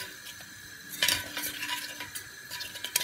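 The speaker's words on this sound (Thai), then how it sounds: "แล้วก็คนไปเรื่อยๆแล้ว" A spoon stirs chocolate milk in a hot pot on the stove, scraping and clinking against the metal in uneven strokes with a faint sizzle, close and with no talk.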